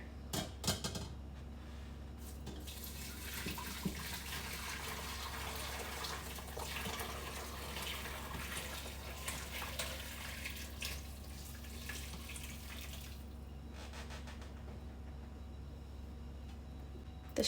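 Hot chicken bone broth from an Instant Pot poured into a strainer, a steady close splashing stream of liquid running for most of the pour over a low background hum, ending with a few drips.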